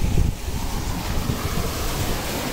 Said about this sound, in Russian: Посижу, послушаю шум моря,